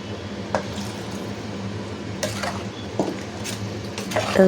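Ground onion, tomato and coconut paste is stirred into a cooking pot for a Coimbatore dried anchovy curry, with soft wet squishing and occasional light scrapes of a spoon against the pot over a steady background hum.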